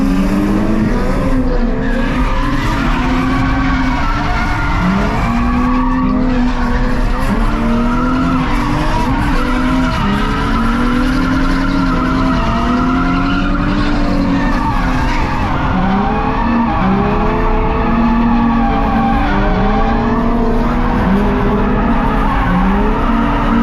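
A drift car slides repeatedly, tires squealing in long wavering bursts over a loud, revving engine, close and continuous throughout with no talk.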